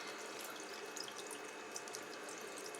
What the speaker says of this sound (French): Ensuite, je les rince.